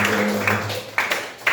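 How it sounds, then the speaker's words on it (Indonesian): Children in a sixth-grade Islamic jurisprudence classroom give a pupil a few sharp, spaced claps, close and bright, starting just after a brief voice. "tepuk tangan untuk Mas Al"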